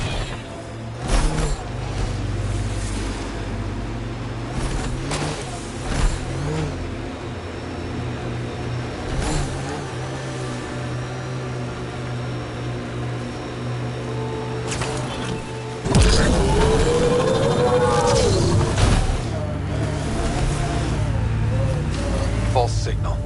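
Engine drone of the Nomad all-terrain vehicle driving across an icy world in Mass Effect Andromeda, a steady low rumble with shifting revs throughout, louder surge near the end, under game voices and dialogue.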